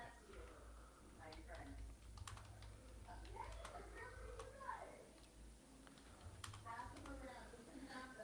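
Rapid clicking keystrokes on a computer keyboard during a Google search, quiet and close, with speech and faint background voices running alongside.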